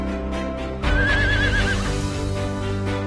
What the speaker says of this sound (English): He's an awful big horse.